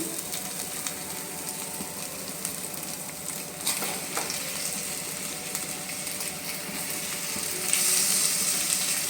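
Washed raw chicken fries in a hot pan with a steady close sizzle, broken by occasional stirring scrapes and clinks of a utensil against the pan; no voices.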